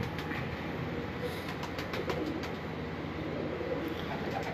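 Pigeons cooing in a Karachi pigeon-keeping loft, soft repeated coos blended into a dense, steady background wash of ambient noise, with no clear talk.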